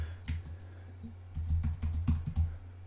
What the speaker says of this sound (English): we will type in the name of this